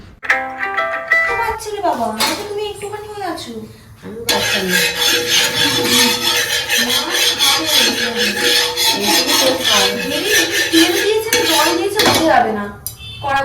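Oats omelette batter whisked in a bowl with a utensil, fast continuous clinking and scraping against the bowl at close range, loud and steady, with someone speaking over part of it.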